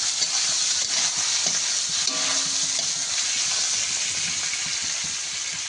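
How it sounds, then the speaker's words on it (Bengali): Chopped tomato, slit green chillies and garlic fry in a pan for a pointed gourd and prawn dish, giving a continuous loud sizzle with occasional stirring scrapes. "টমেটো কুচি, চেরা কাঁচা লঙ্কা। এগুলো আমরা ভালো করে ভেজে নেব।"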